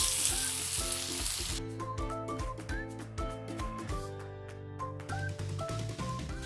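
Chopped green chillies and onions sizzle in hot oil on a tawa while pepper chicken is being prepared, a bright frying hiss that is strongest at the start and then sits under steady background music.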